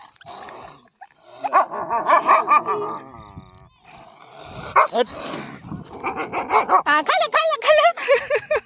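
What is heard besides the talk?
dog barking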